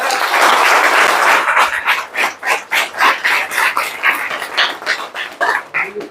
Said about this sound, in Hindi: जो आ गया हो तालियों से बता दीजिए।